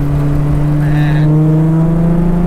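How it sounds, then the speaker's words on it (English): A 2000 Honda Civic EK engine held at a steady, loud idle-to-mid drone, with a brief higher whine rising and falling midway through as it revs on a downshift. "do a little downshift for you."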